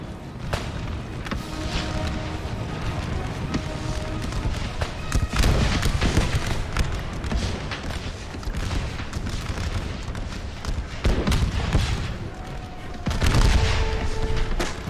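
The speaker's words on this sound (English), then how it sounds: "Left wing is firing into their own ally." Musket volleys in Total War American Civil War battle: dense, ragged crackling of massed rifle fire with heavy booming bursts, loud and continuous throughout, rolling in overlapping waves.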